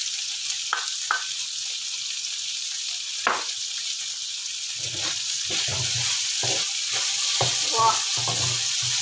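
Bitter melon and anchovies are stir-fried in a pan while leeks and fried shallots are added: a steady sizzle runs throughout, with scraping and clinking utensil stirs growing busier toward the end.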